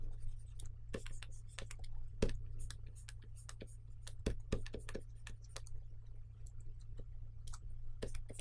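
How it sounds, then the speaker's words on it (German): A stylus scratches and taps on a drawing tablet in quick, irregular strokes over a steady low hum, close but fairly quiet, with no talking. "Der Lärm vom Stift auf dem Tablet."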